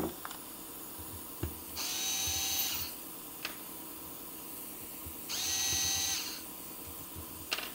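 A power screwdriver backs screws out of a Holley 4412 carburetor during an accelerator pump swap, running in two steady whirring bursts of about a second each, with light clicks and handling knocks in between, fairly quiet and close.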